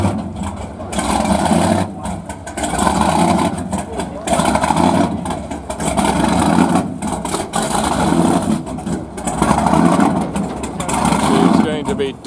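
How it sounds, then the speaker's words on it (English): Silverline boat engines run at a marina, a loud steady motor drone with rhythmic surges and brief dips throughout, with voices talking over it. "the very solid sound of the Silverline engines there"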